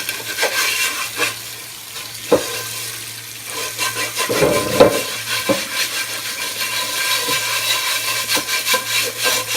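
Steady abrasive scrubbing of a cast iron skillet with a scrubber, continuous rasping strokes with a few sharper knocks, close and fairly loud, no talking.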